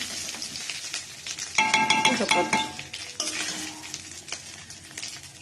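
Spice paste hits hot oil for a vegetable dal, a loud sizzle and frying hiss with a spoon stirring and scraping against the pot, close up and with no voices.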